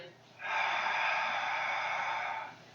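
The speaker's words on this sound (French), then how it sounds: "Donc là, j'expire." One long, forceful exhale of breath during a Pilates exercise, a close airy hiss that starts abruptly, holds steady for about two seconds, then fades.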